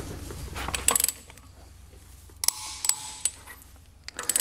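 A torque wrench tightens lug nuts on a Tesla Model 3 wheel, giving a few sharp metallic clicks and clatters in short bursts separated by quiet gaps.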